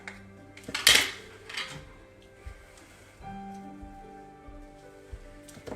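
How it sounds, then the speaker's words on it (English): A glitter craft mixture being stirred in a container: a loud clink of a utensil against the vessel near the start, then softer scraping and occasional light taps, close by. "let's stir this up"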